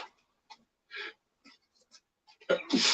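Single sharp sneeze bursting out near the end after a stretch of quiet breathing and small rustles, close and fairly loud.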